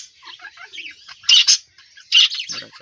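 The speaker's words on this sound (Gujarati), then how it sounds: "ચકલીના બચ્ચા પણ છે એની અંદર," Young sparrow chicks chirp from inside a nest in bursts of thin, high tweets and squeaky calls, close and fairly loud, with two brighter peaks of chirping and brief quiet gaps between.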